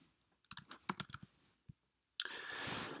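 A few keys tapped on a computer keyboard to enter a number, a short cluster of quiet clicks followed by a single tap, then a soft hiss.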